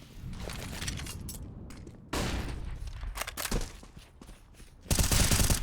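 Pistol gunfire in a Counter-Strike match on Overpass, a series of sharp shots in uneven bursts mixed with game noise, ending in a dense loud volley.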